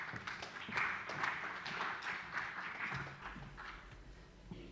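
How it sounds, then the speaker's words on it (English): Audience applause for speaker Jodi Smith at a financing event, a moderate burst of scattered clapping from a room that swells, then thins out and fades after a few seconds. "Let's give Jodi Smith a round of applause"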